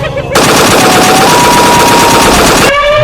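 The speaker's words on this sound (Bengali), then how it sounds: "তুই বাঘ আর হায়নার গায়ে গুলি চালা।" Cartoon gunfire aimed at a tiger and a hyena, heard as a loud continuous machine-gun burst of rapid shots lasting a couple of seconds.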